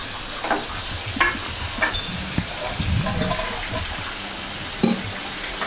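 Onion and garlic tempering frying in a pan with turmeric and masala while fish curry is cooked, a steady close sizzle broken by several sharp stirring scrapes and clinks.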